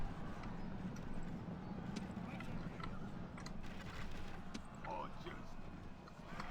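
Mounted horse archers in a video game battle, with a busy low rumble of hooves and clip-clop under continuous battle noise, and a voice speaking over it.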